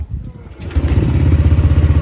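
A Yamaha NMAX scooter engine cranks and catches after a short quiet pause, then settles into a steady, close, throbbing idle during an oil-change reset.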